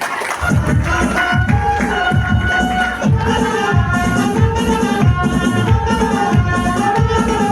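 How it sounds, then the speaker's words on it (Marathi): A crowd cheers and claps to welcome an arriving MLA, with loud rhythmic beats and a tonal musical layer running under a lively, sustained crowd roar. "त्यांचं सगळ्यांनी टाळ्या वाजून स्वागत करायचं आहे"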